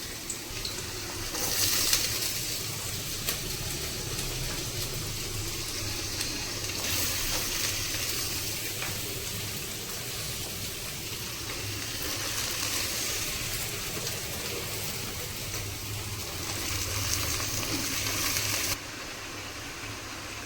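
Cubed potato and ridge gourd hit hot oil with black cumin and green chili, making a steady, dense sizzle that crackles evenly throughout, close up and without talk.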